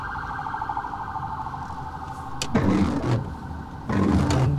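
An ambulance siren wails steadily as it passes along a street, warbling at mid volume over traffic noise and swelling louder near the end.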